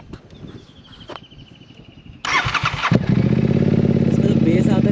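A Royal Enfield GT 650 with a Gursevak exhaust and no dB killer cranks and fires up, settling into a loud, deep, steady idle nearby, with someone speaking just before it starts.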